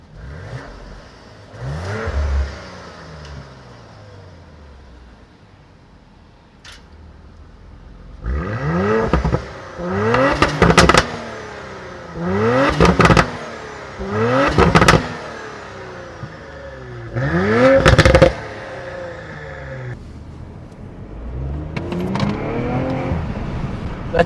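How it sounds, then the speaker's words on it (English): A 2018 Audi RS5 engine revs hard while parked, with a series of sharp rising throttle blips roughly every two seconds, each dropping back to a steady idle, loud and close with no talk. "let me just show you how this vehicle sounds like before I go for a test drive"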